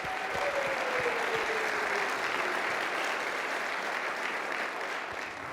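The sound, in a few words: audience applause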